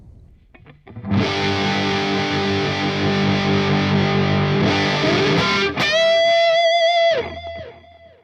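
Distorted electric guitar lead tone through a Fractal Audio AX8, with sustained chords and notes ringing for several seconds, then a single held lead note bending and fading, loud and close with no talking.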